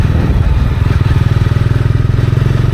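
A TVS Ronin 225 motorcycle engine chugs loudly and close during a ride while turning, a steady rapid low thumping pulse with a rough rumble throughout.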